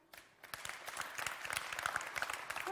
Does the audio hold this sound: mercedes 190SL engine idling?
no